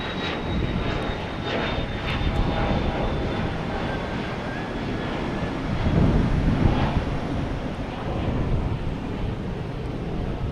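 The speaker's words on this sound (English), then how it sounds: "JetBlue here. A220 coming in from Bermuda." A JetBlue Airbus A220 jet arriving at Boston Logan Airport, its engine roar loud and continuous throughout, swelling slightly midway with a faint high whine riding on top.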